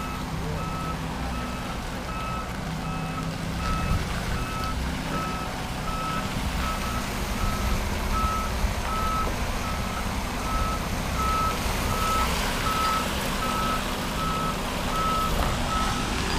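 A truck reversing while moving a tram sounds a steady, evenly spaced electronic backup beep, with a low engine rumble underneath throughout.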